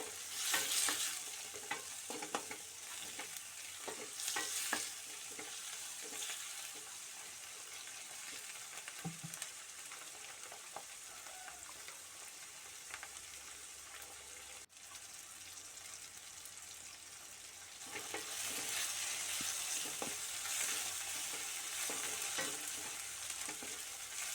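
Chopped tomatoes sautéing for a Kerala mutton dish sizzle quietly while a spoon repeatedly scrapes and stirs the pan. The frying grows stronger toward the end, and no voice is heard.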